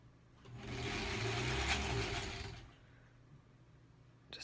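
A sewing machine runs a steady, fast stitching burst of about two seconds while seams of a granny-square quilt are joined, then falls quiet with faint handling noise afterward; close and fairly soft.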